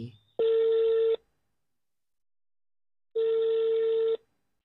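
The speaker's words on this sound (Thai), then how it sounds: "รีบหยิบโทรศัพท์กดโทรบอกแม่ทันที" Telephone keypad tones in a Thai audio drama, two separate sustained beeps of about a second each with silence between, clean and close.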